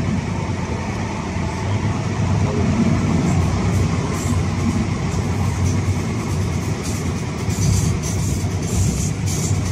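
A train rumbles past nearby, a loud continuous roar of wheels and carriages with rattling metallic clatter rising toward the end.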